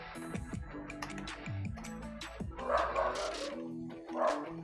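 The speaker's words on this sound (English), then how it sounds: "Got some dogs in the house." Several dogs bark inside a house in Costa Rica, a close burst of sharp overlapping barks and yips in an uneven rhythm, loud and clear with no talking over them.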